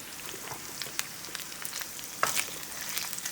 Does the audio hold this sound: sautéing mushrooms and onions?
yes